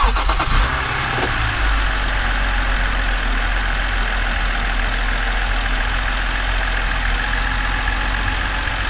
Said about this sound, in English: I partially removed the belt, and let's listen how it's gonna sound crank pulley spinning.